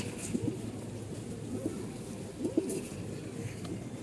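Soft pigeon cooing repeats a few times in low, throaty bursts over a steady background murmur, moderately close.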